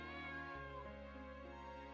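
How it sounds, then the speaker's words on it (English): A cat meows in an RPG Maker video game, one drawn-out, tonal game sound effect that holds steady throughout with no talk over it. "That's a cat."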